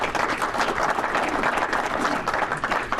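Audience applause for a teacher at a Rotary meeting, a steady dense wash of many hands clapping close by, holding evenly for about three seconds.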